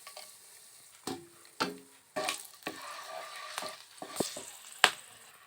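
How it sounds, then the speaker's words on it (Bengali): Whole cinnamon and cloves crackle in hot oil, with soft intermittent bursts of sizzling and spitting and a sharp utensil tap near the end. "এবারে তেলে দিয়ে দেব গোটা দারচিনি, সামান্য লবঙ্গ,"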